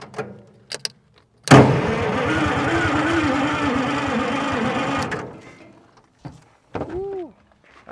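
An old diesel engine left rotting in the woods cranks loudly and steadily for about four seconds with a rapid, even chugging rhythm, then stops, followed by short clanks and a brief voice.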